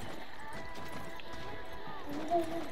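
Horse hooves clip-clop faintly in an even rhythm in the video game Red Dead Redemption 2, beneath quiet background voices.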